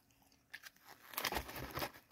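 Crunching bites on Taco Bell nacho fries, several soft crisp crunches close to the mouth, faint and alone with no talk.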